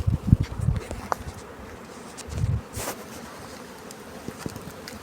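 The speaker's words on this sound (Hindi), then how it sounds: "ये देखिए आप लोग किस तरीके से मधु अपना काम करती हैं और मधु को बनाती हैं।" Honey bees swarm around the entrance of a hive on a bee farm, a steady close buzzing drone with a few louder passes of individual bees near the microphone.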